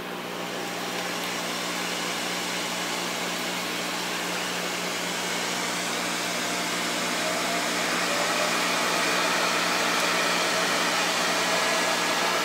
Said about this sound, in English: turn my fan on